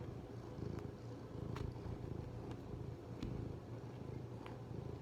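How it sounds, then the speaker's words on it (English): A cat purrs close up in a steady, rhythmic low rumble that goes on without a break, with a few faint clicks over it. "Can you hear the purring?"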